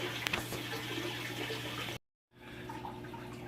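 Water runs and splashes steadily during a saltwater aquarium water change, breaking off abruptly in a short silence before resuming as a softer, more distant flow.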